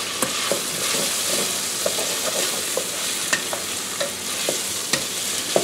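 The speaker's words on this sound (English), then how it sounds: "Stir that together." Baked ziti sauce with fresh basil and Italian seasoning is stirred in a hot pan, a steady close sizzle punctuated by light scraping and clicks of the spoon, with no voices.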